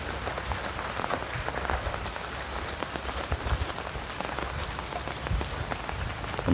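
Steady rain pours onto a surface, a dense hiss with scattered drop impacts, loud and continuous throughout with no voices.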